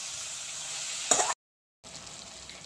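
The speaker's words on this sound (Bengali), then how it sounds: "আদা রসুন পেস্টটার কাঁচা গন্ধটা যতক্ষণ না যাচ্ছে ততক্ষণ এটাকে নাড়তে থাকবো" Ginger garlic paste sizzling and frying in a pan while being stirred for chicken makhani, a bright hiss that briefly flares louder, then cuts out before resuming at a softer level.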